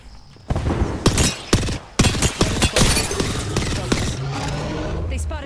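Apex Legends gunfire rattles out in loud, sharp bursts of close shots, several distinct cracks spaced over a few seconds, then settles into a steadier roaring wash of combat noise.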